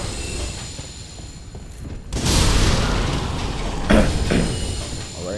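Exploding firebombs thrown in Dark Souls 3: a sudden heavy blast after a quieter stretch, followed by a second sharper burst, loud and close with a rumbling tail.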